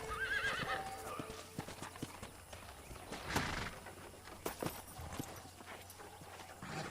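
Horse hooves clip-clop at a walk with a whinny in the Red Dead Redemption western setting, steady hoofbeats through the whole stretch alongside occasional clatter and faint ambient game noise.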